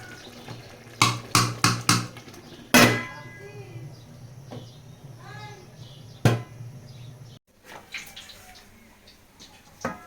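A lid placed over a cooking pot on a low stove flame: a single loud metallic clunk with faint clattering around it, over light kitchen noise and a voice talking.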